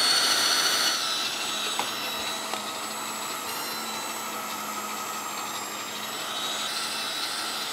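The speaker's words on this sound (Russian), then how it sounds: "И вот мясо, мясорубка включается," An electric meat grinder mincing meat and onion whirs in a steady, close, continuous motor drone with faint knocks from the feed.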